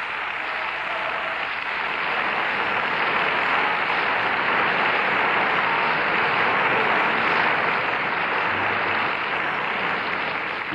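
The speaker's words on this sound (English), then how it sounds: "The applause for Madame Rysanek is by the audience here in the General Assembly Hall of the United Nations" Audience applause in the United Nations General Assembly Hall after an opera performance, a dense, steady wash of many hands clapping at even loudness, close and continuous throughout.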